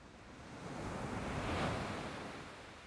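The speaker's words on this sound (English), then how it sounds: "Nothing but the crashing waves" Surf breaking on the shore at West Bay, a soft roar of surging water that swells to a peak midway and then eases off, with some wind noise.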